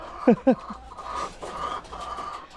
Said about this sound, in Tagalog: nandito na yung mga manok